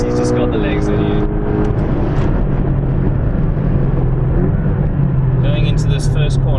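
Porsche 718 Boxster or Cayman GTS driven flat out on the Kyalami Grand Prix Circuit, a loud continuous engine roar rising in pitch through the gears, close and steady, with someone talking over it.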